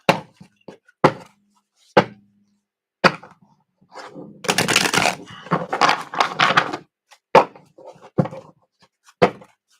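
Tarot cards being shuffled four times: sharp snaps and slaps of the deck, then a dense riffling burst in the middle, then more single taps, close and fairly loud, with no talking.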